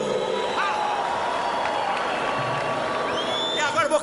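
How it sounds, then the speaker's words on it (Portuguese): Crowd at an outdoor concert at Marco Zero, Recife, cheering, clapping and whooping throughout, with a steady wash of applause, a voice talking over it and whistles near the end. "Palmas para o cisne branco e o cisne negro."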